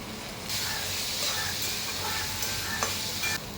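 Sabudana tipped into a pan of cooked potatoes with chilli over a low flame, setting off a steady close sizzle with stirring scrapes and hiss, no talking.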